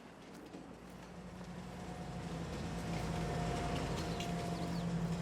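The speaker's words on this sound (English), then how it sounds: "So the train's not here. Oh, there it is, reversing up." A freight train reversing in Farming Simulator 22 on a Canadian farm map, heard as a steady low rumble with faint mechanical whine that builds gradually in loudness, no talk over it.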